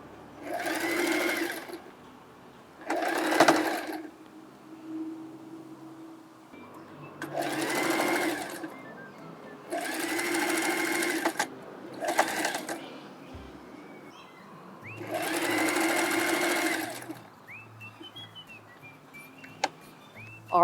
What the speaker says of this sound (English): we're gonna run a straight stitch all the way down